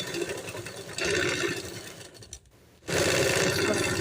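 Sewing machine stitching the side seam of a lined kurti, a fast steady mechanical chatter that stops briefly, leaves a short quiet pause, then resumes at full speed.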